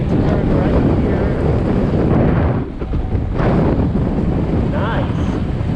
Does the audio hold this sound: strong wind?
yes